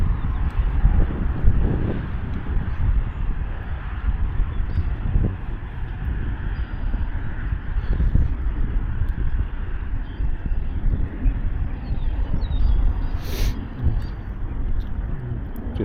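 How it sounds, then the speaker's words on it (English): Strong, steady wind buffeting the microphone on the shore of Harrier Lake in Illinois during a fishing trip, a loud continuous low rumble and roar that never lets up, with no talking. "Just a constant wind right now"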